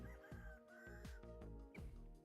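Chicken clucking in the video game Vintage Story: a few short, sharp clucks come one after another over steady low game ambience and music, fairly faint and close.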